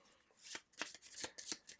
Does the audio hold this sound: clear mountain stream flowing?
no